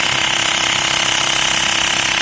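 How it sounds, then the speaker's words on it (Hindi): A Mi portable electric air compressor runs while inflating a car tyre, giving a loud, steady, rapid pulsing rattle from its piston that stays constant throughout. "एयर कंप्रेसर स्टार्ट हो चुका है, प्रेशर दे रहा है टायर पे"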